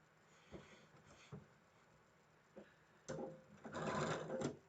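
Sewing machine stitching quilt block pieces together, quiet at first with a couple of brief short runs, then a longer steady whirring burst near the end, no talk.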